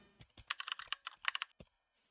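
Quick bursts of typing on a computer keyboard, a rapid run of close, crisp key clicks that stops after a couple of seconds, quiet overall.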